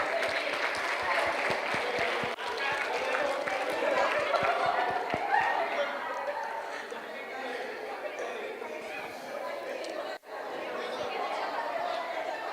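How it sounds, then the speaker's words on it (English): A seminar audience in Hyderabad claps together while chatter and voices run underneath, forming a busy, sustained crowd sound at moderate distance that gradually gives way to more talk. "Let us all give ourselves a big round of applause"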